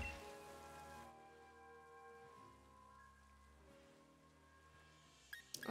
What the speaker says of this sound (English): Was it raining last time we came here?